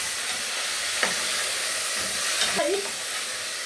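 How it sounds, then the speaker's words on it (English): Beef stew meat being stirred in a hot pot with onions, giving a steady broadband hiss and sizzle throughout, with a few faint scraping or clinking touches near the middle and end. "Then I'm going to stir it."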